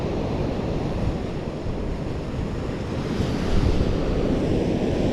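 Breakers crashing steadily on a sea-fishing shore, a dense continuous roar of surf close by and loud, swelling slightly toward the end, with no voices.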